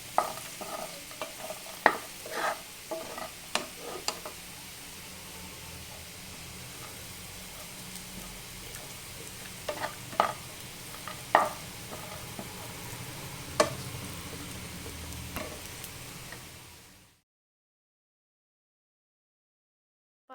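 A spoon stirs a ripe plantain mixture with cashews and raisins in a pan, giving soft sizzling and scraping with occasional sharper clinks, steady and close, then cutting to silence near the end.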